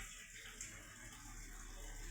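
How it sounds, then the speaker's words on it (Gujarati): Steady monsoon rain falling and running water pouring nearby in a Gujarati village at dusk, a continuous, even wash of hiss at moderate level with no pauses, heard alone without voices. "કેટલો વરસાદ પડે"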